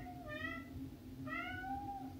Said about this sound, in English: he's meowing at the front door